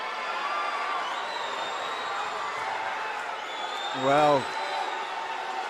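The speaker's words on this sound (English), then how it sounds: "the crowd showing what they think of that, and it's really gone up a notch, the atmosphere here at the Troxy for the 10K" Crowd noise at a karate bout at the Troxy during the 10K Karate Clash: a steady hubbub of spectators runs throughout, with a commentator's voice rising over it near the end.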